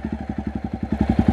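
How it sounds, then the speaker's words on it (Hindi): Jawa Perak bobber motorcycle with its dB killer removed, thumping out a close, loud exhaust note in a steady rapid rhythm of distinct pulses that grow slightly stronger toward the end, with no talk over it. "डीबी किलर निकालने के बाद एग्जॉस्ट नोट जो आ रहा है एकदम चुम्मा आ रहा है"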